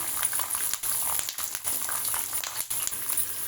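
Groundnuts and green chillies frying in a pan, a steady close sizzle with crackling pops running continuously, a few brief dips where the hiss drops out.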